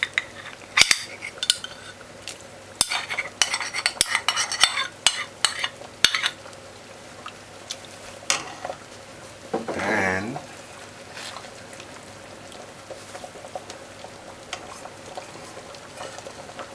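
Butter sizzling in a pot for Jamaican stew peas, with stirring clinks and scrapes of a utensil against the pot, a low hiss underneath and a brief burst of louder sizzle midway.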